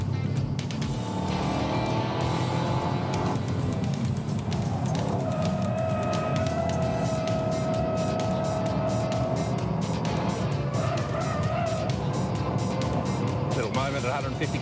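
A high-performance car accelerates hard on the Phillip Island race track, its engine a loud, continuous roar that rises in pitch through the gears. A voice talks over it.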